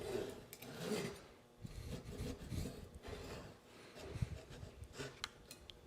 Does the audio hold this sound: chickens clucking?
no